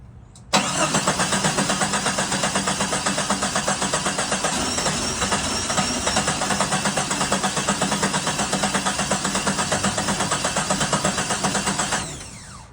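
A 1987 Jeep Comanche engine cranks steadily for about eleven seconds, the starter loud, close and evenly rhythmic before it cuts off.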